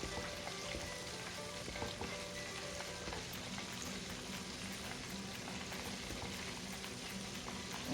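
Flour-coated chicken pieces fry steadily in hot oil for homemade crispy chicken, a constant dense sizzle and crackle that holds at an even level throughout with no talk.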